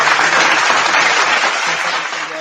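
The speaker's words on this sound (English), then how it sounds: "Let's give a round of applause." A crowd claps and applauds continuously, a dense wash of hand claps that fades a little toward the end.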